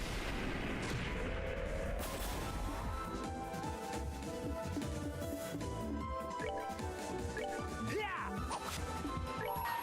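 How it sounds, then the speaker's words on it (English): A satellite beam attack strikes in Trails in the Sky the 3rd, a dense, crashing, continuous barrage of impacts and blasts layered with game music, loud and sustained for several seconds. "Satellite beam fire!"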